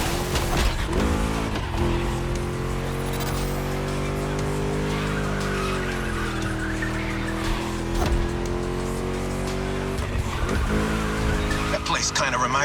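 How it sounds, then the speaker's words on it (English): Ford Mustang V8 from The Crew Motorfest roars steadily at speed through a race lap, a deep, loud, sustained engine drone with brief dips around gear changes and hints of tire squeal, with someone speaking over it. "Just listen to that V8 like a chonky, down-tuned guitar riff."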